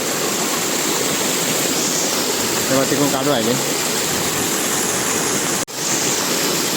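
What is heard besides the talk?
rainwater rushing down from upper rice field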